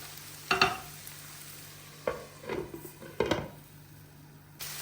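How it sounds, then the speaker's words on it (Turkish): Potatoes frying in a pan and being stirred for a Turkish breakfast dish, with a faint steady sizzle broken by several sharp scraping, clattering stirs spaced a second or so apart. "Böyle sürekli ara ara karıştıralım ki altı sert bir şekilde kızarmasın."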